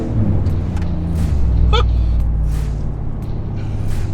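A Hellcat-powered 2019 Ram Rebel pickup accelerating hard under throttle, a loud, sustained low engine roar that builds steadily from inside the cab with faint intermittent background noises.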